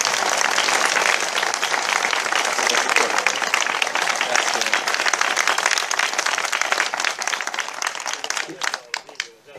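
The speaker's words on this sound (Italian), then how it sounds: "vorrei fare un applauso al professore" A room full of people applauding steadily, dense and loud, then thinning into scattered claps that fade out at the end.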